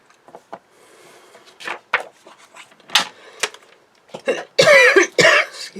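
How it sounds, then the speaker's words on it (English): A crafter at a workbench coughs several times in short irregular bursts, close and fairly loud, with the heaviest coughing near the end, among faint tapping and handling noises. "Excuse me, I've got a bit of a cough."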